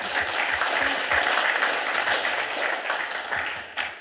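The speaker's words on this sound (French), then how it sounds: "Et ça s'applaudit, ça s'applaudit." Steady applause from a small audience at a meeting, a close, continuous patter of many hands clapping throughout the few seconds with no voices over it.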